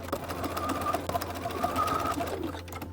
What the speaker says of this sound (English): Add that understitching right next to that seam line.